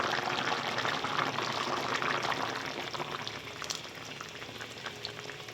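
Water boils vigorously with a dense bubbling hiss, and thick horse gram paste for shengole is added partway through, the rolling boil continuing steadily and close.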